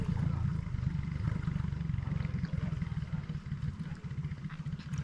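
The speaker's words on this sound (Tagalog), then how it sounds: "May motor pala, be." A motorcycle engine rumbles nearby with a low, steady throb and a slightly rough, pulsing texture, holding a fairly constant loudness throughout.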